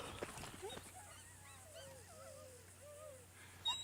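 A dog in Red Dead Redemption 2, bitten by a snake, lets out soft, high whimpers and whines in a short rising and falling series against a low steady hum, with voices nearby.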